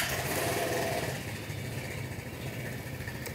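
Royal Alloy scooter engine idling steadily after starting, a low even mechanical hum that is louder at first and then settles, with no talking.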